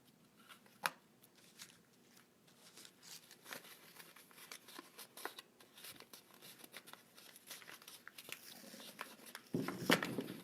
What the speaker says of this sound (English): you're going to fold it in half the other way